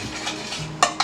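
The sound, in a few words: stirring lemon bundt cake mixture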